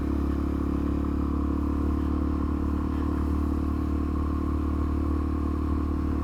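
A Suzuki DRZ400SM motorcycle leans through a 30 mph corner on a narrow road, its engine holding a steady, loud drone under constant throttle with wind noise throughout.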